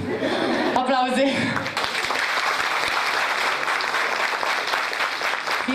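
Audience applause at a Women's Day stage show in Motca, with a brief voice and a little laughter at the start, then steady, even clapping that carries on for several seconds at a moderate distance.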